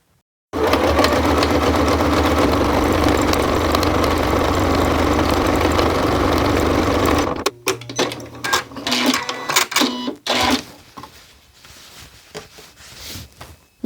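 A sewing machine runs steadily for about seven seconds, stitching across the top edge to hold together the two layers of a child's Christmas stocking, then stops, leaving scattered handling clicks and knocks.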